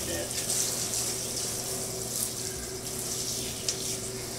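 Shower water hisses steadily while a dog gets washed, a continuous close spray with a faint hum beneath it and occasional brief splashes, and a person speaks at times.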